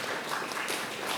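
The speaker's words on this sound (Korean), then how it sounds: "뜨겁게 박수로 축하해 주시기 바랍니다" Congregation clapping at a pastor ordination and elder installation service, a short stretch of steady, dense applause from a crowd, moderately quiet and with no speech.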